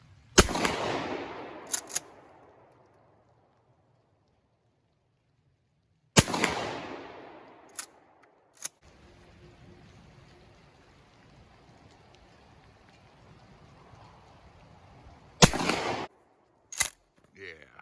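Shotgun slugs are fired offhand at a 50-yard target outdoors. Three loud, sharp reports ring out several seconds apart, each followed by a decaying echo, with a few smaller clicks and knocks from the gun's action in between.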